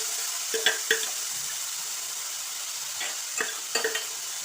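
Cooked food stirred in a frying pan (kadai) over a steady sizzle, with a few scraping spoon strokes in small clusters; no voices.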